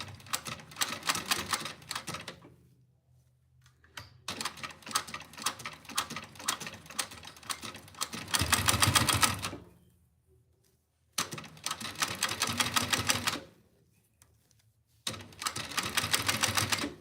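Sewing machine used for wig making, run at full speed in several bursts of rapid, even mechanical clatter separated by short pauses of near silence.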